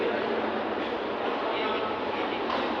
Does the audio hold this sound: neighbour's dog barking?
no